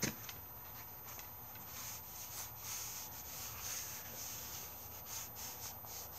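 Wax being rubbed by hand into a wooden exercise staff, a soft continuous scraping and rubbing with faint rhythmic strokes, quiet and close.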